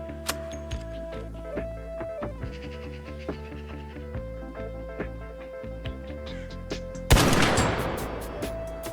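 Anvil Splitter modded gun firing in Arc Raiders: one loud, sharp shot near the end with a ringing decay, preceded by steady game music and soft tones.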